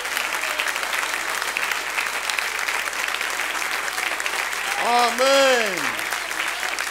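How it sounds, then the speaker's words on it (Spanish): Church congregation applauding steadily in a Sunday service in Santiago, Chile, broad sustained clapping throughout, with a preacher's voice speaking briefly near the end. "Un aplauso, hermana, para los hermanos."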